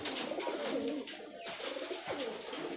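A local Rajshahi high flyer pigeon hen coos close by in soft, repeated throaty rolls over a steady background hum.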